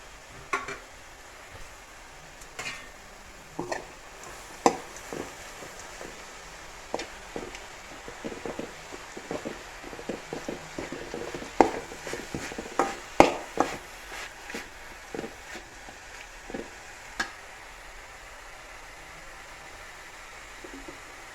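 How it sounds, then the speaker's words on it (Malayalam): Taro stem stir-fry with grated coconut is stirred in a pan, with quiet, scattered scraping and tapping strokes against the pan over a faint, low background hiss. "നമുക്ക് അല്പം തേങ്ങാൻ കൂടി ഇട്ട് ഇളക്കാം"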